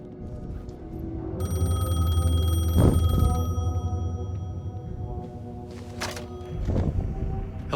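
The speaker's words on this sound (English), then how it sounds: "The payphone was ringing." A payphone rings in Alan Wake II, a steady electronic ring tone with sustained harmonic bursts repeating over a low ambient rumble, close and clear with no talking.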